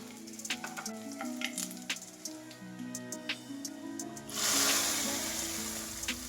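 A hot tempering is poured into a Kerala crab curry. A steady background frying sizzle with small ticks surges into a louder, hissing burst as the oil meets the curry, then stays loud.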